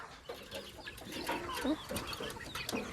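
Close, soft clucking from a chicken in a rice field at harvest, a few short murmured calls over quiet background noise.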